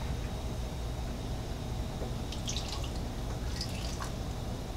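Water trickles and drips into a glass jar of tomatoes being filled for canning, with small splashy bursts over a steady background hum.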